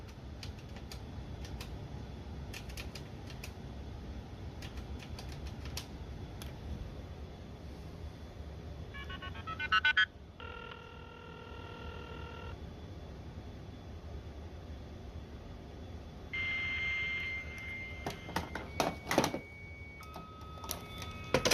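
Modem dialing over a telephone line and connecting at 300 baud: tone bursts, then steady handshake whistles and a screeching carrier, fairly faint over a background of clicks and keys.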